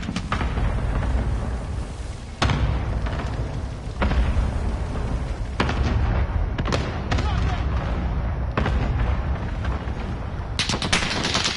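In a military shooter video game, airstrike explosions land as a string of heavy booming blasts amid rattling gunfire, several sharp impacts spaced a second or two apart, loud and close.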